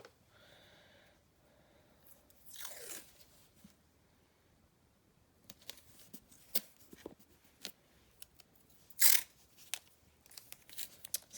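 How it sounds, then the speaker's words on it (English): Washi tape peeled off its roll in short papery rips, a few quick tearing bursts scattered between quiet gaps, with soft breathing and small handling noises close by. "See how some of it, when you pull it out, it sounds like paper?"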